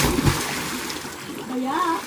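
Water splashing as someone learns to swim: a few close splashes and sloshes at the start, then lighter water movement while a person speaks over it.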